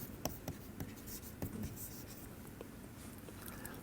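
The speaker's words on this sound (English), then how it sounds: "So let me write that down." Faint, scratchy strokes of a pen sketching by hand on paper, coming in short irregular bursts against a quiet room.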